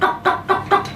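A person imitates a chicken clucking with their voice, giving four rhythmic, evenly spaced clucks, close and loud, with no other talk.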